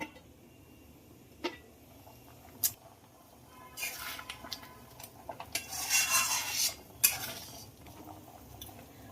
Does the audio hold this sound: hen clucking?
no